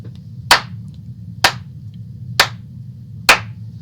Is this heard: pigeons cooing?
no